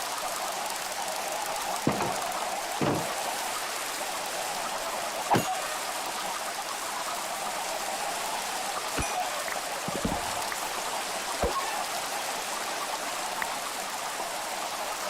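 Steady rain pours down in the video game Minecraft, a continuous even hiss with a few soft clicks and taps scattered through it, with no voices over it.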